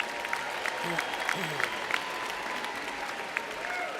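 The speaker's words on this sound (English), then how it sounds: "Let's give a round of applause for all of our digital social media graduates" A commencement audience applauds digital social media graduates, a steady mid-level wash of clapping with a few sharper claps and whoops poking out, and faint voices underneath.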